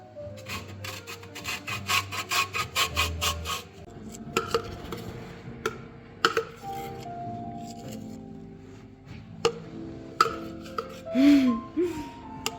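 Lemon zest grated by hand makes a quick run of rhythmic rasping strokes for a few seconds, followed by scattered kitchen clatter and rubbing.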